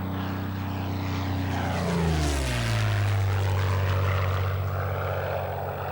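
A Curtiss Kittyhawk fighter with a rough-running Allison engine flies past, its loud droning propeller roar swelling and sweeping down in pitch as it passes close overhead, then holding a steady lower growl.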